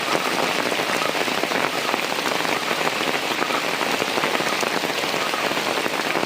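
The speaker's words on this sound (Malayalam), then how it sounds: "നല്ല മഴയുണ്ട്" Heavy rain pours steadily onto a surface, a dense, even hiss of drops that never lets up; no voices.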